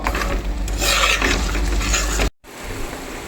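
Beetroot frying in oil for a beetroot lemon pickle, with steady close sizzling and rough scraping as it is stirred, then a brief break before softer frying resumes.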